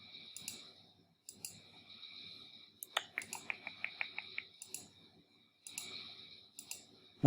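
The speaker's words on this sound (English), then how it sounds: "I'm going to click on here." Computer mouse clicks at a desk, a quick run of sharp, close clicks in the middle between quieter gaps, with faint room noise and a few softer taps around them.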